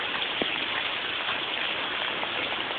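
Heavy rain pours down outdoors in a steady, dense hiss that holds an even level throughout, with a few faint drip accents and no voices.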